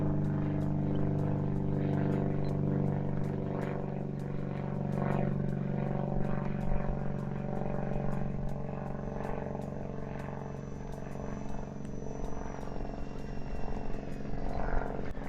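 A small propeller airplane flies overhead, a steady, full droning hum with a tonal buzz that holds at a fairly even loudness throughout.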